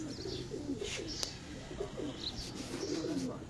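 Pigeons cooing on a rooftop loft, a few low throaty coos repeating at close range alongside faint chirps from other birds and soft background noise.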